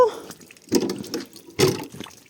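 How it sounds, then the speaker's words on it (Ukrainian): Water is poured out into a flower bed in intermittent splashing bursts, two strong gushes separated by quieter trickling, close to the microphone. "Цю воду ми вилімо в квітник з добрива."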